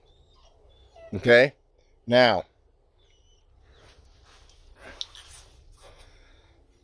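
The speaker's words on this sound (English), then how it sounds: "You can hear my dog whining outside." A dog whining outside beside a plant nursery, two loud drawn-out whimpering cries close together, then quieter rustling and a brief spoken remark.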